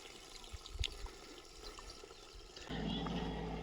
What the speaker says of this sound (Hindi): तो यह है पानी का धारा